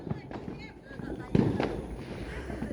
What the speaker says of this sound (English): I see someone's fireworks.